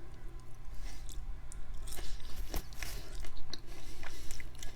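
Crunchy fried pickles from Buffalo Wild Wings being chewed up close, with loud, steady crunching bites and wet chewing continuing throughout, and no talking.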